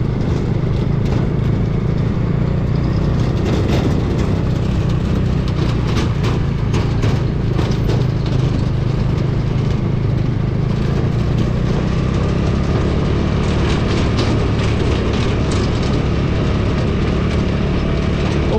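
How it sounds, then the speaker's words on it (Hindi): A motorcycle rumbles steadily over a rough mountain track, its engine noise mixed with continuous rattling, clattering and wind buffeting, loud and close throughout. "बाइक इधर उधर भाग रही मेरी"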